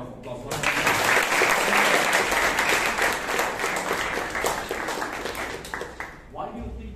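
An audience at a Toastmasters club meeting in Bangalore breaks into loud, sustained applause that starts abruptly and gradually tapers off over several seconds, with a voice speaking over the end.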